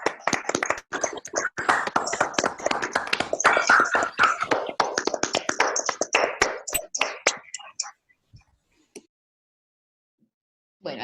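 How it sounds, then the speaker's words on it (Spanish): A small audience claps after a mathematics seminar talk, a brisk scattered applause of many hands that thins out and stops, followed by near silence. "aplaudimos"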